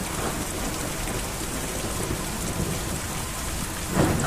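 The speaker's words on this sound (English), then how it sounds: "The storm is ominous." Heavy rain pours in the game Kentucky Route Zero, a dense, unbroken hiss of drops with a low, rumbling storm bed underneath and a brief swell near the end.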